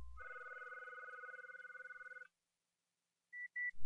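A SIP phone call ringing through a Terra-FXO paging adapter, a pulsing electronic ring tone picked up on a microphone, followed by silence and two brief beeps.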